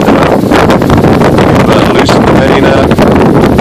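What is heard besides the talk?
strong wind blowing, about 20 knots, on a boat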